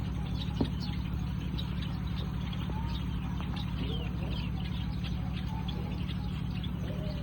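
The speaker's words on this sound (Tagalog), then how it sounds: "Daming ibon, oh." A large aviary holding many birds gives off a steady, busy wash of scattered chirps and calls. The sound is fairly distant and blends into a constant background hum, with no clear single voice standing out.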